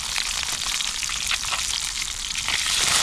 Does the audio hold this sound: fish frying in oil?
yes